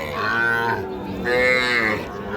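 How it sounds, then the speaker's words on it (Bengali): A heifer calf at a rural cattle market moos loudly and close by, two long, drawn-out lowing calls with a brief dip between them and no talk. "এটাও একটা বকনা বাছুর"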